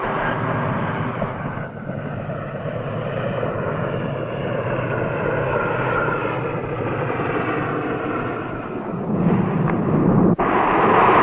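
A Lockheed LC-130 ski-equipped aircraft lands on an Antarctic skiway, its loud, steady turboprop drone heard from inside, swelling into a louder rumble and roar near the end.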